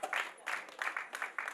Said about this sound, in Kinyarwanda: Amashyi menshi ku mubyeyi Musonera.